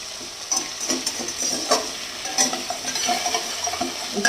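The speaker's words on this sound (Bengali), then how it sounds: "আলুর সাথে একটু ভালো করে একটু সাঁতলে নেবো" Malabar spinach stems being sautéed with potatoes in a pan, a soft sizzle under intermittent scraping and stirring clicks of a spatula, moderately close and fairly quiet.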